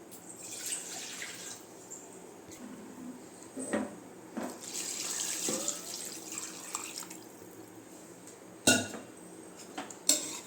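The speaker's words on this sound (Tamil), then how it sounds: "இப்போ வந்து நம்ம மூணு டம்ளர் தண்ணி சேர்த்துக்கலாம்" Water is poured from a tumbler into a pressure cooker of basmati rice for country chicken biryani, an uneven splashing and trickling at close range, broken by a few sharp clinks of vessels, with nobody talking.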